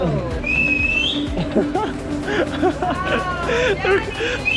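Sharp rising whistles cut through a noisy market crowd in San Miguel, El Salvador, with people shouting and chattering nearby in a busy open space.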